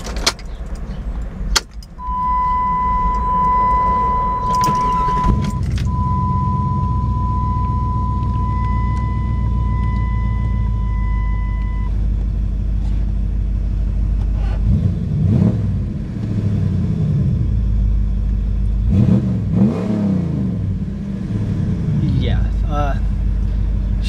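A 1998 Jeep Grand Cherokee with a 5.9 engine rumbles at idle from inside the cabin, with a dashboard chime tone early on and two throaty revs later, while people talk over it.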